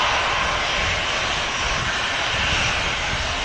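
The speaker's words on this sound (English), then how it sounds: "EasyJet just touching down." An easyJet A320neo airliner arriving from Dalaman touches down, giving a steady, loud broadband roar of jet engines and rushing air that holds constant throughout, with no voices.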